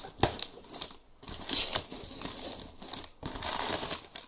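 Paper and packaging crinkle and crumple as the box of a Busse Combat F-16 Nuclear Option knife is opened, with close, loud rustling bursts separated by brief pauses.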